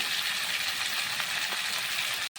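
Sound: stir-frying peas with tangra fish and cauliflower

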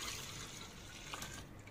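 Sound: pouring cold milk into a blender jar

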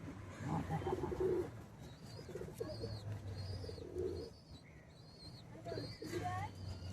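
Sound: pigeons cooing

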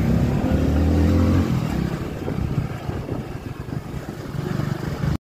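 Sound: motorcycle driving away

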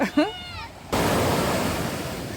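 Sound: sea waves surging on the shore

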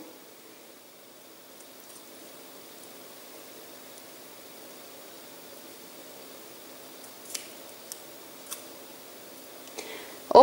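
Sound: cutting meat off the bone to feed a baby owl

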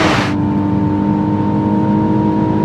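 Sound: Mercedes SLK car accelerating on a mountain road

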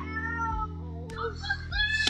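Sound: cat meowing loudly

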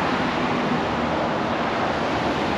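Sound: sea waves breaking on a rocky shore

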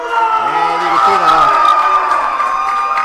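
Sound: wrestling crowd cheering for Aaron Matthews

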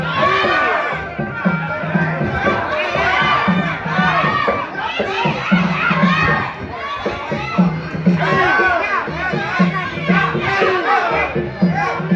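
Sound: crowd shouting at a rural Muay Thai fight

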